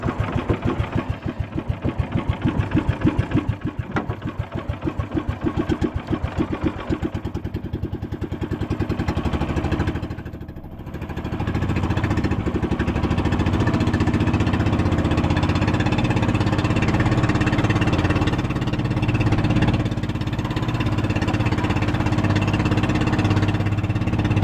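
The engine of a vehicle on a seaside trip runs steadily. It starts as a choppy, pulsing idle and settles into a continuous rumbling drone that holds for the rest of the stretch.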